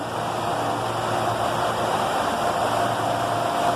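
A radiator fan motor runs at high speed, a steady, loud mechanical whir with a low engine hum underneath, running continuously without change.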